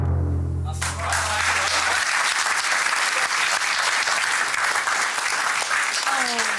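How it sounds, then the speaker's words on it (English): Studio audience on a TV game show bursting into sustained applause that quickly swells and holds loud, following a brief tone before it. "that is worth applauding"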